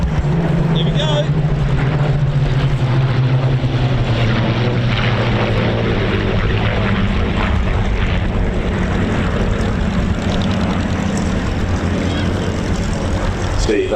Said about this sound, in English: 3 Rolls-Royce Merlins attached as 3 of the most iconic fighter aircraft in